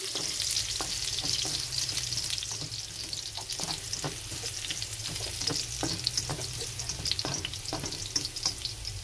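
Garlic frying in a pan until golden brown, a steady close hissing sizzle with scattered crackles and pops and occasional stirring scrapes, continuing without talk throughout.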